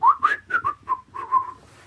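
A lone person whistling a short, jaunty tune of several bright, separate notes, clear and close with quiet surroundings.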